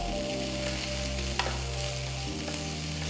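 Chopped onions with curry leaves sauté in a pan for rava paniyaram, giving a steady, close sizzle and crackle with a brief stir partway through and no talking.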